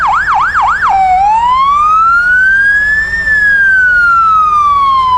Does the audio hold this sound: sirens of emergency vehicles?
yes